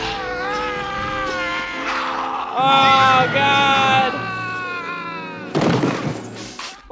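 Cats yowl and caterwaul in a 1992 horror film, loud drawn-out wails rising and falling near the middle, with a man's startled exclamations over the top and a sharp burst near the end.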